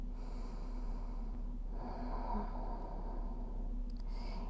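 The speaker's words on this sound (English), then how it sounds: "One more inhale and exhale here." Slow, deep breathing during a stretching session, a long audible inhale and exhale drawn through the nose and mouth, soft and close against a quiet steady hum.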